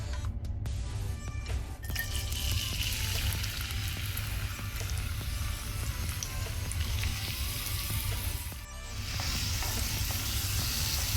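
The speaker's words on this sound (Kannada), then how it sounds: "ಈರುಳ್ಳಿ ಸ್ವಲ್ಪ ಕಲರ್ ಚೇಂಜ್ ಆಗೋ ತನಕ ನಾವು ಫ್ರೈ ಮಾಡ್ಕೊಳ್ಳೋಣ" Chopped onions sizzle and fry steadily in hot cooking oil in a pan, a continuous close crackle with occasional stirring, while cooking mutton techa, with no talking.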